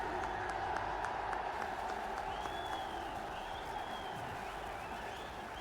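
Large outdoor rally crowd at Kolkata's Brigade Ground applauding Prime Minister Narendra Modi, a steady, dense wash of clapping and crowd noise filling the whole stretch with a few faint whistles.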